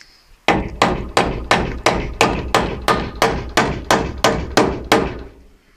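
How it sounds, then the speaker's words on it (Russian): A hammer drives nails at an angle through overlapping horizontal wooden wall boards in herringbone-style cladding: twelve loud, evenly spaced, ringing blows in a steady rhythm about every half second, close by with no voices. "здесь мы пробиваем гвоздем так, чтобы он прошил обе доски под наклончиком"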